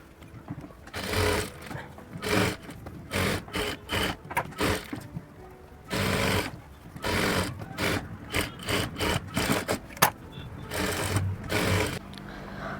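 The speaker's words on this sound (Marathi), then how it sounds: "आता आपण शिलाई किनारी किनारी मारून घेऊया" Sewing machine stitching along the edges of katori blouse fabric with its lining, in repeated bursts of whirring runs separated by short pauses, close and fairly loud.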